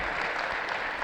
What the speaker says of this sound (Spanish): Denle un fuerte aplauso a la palabra del Señor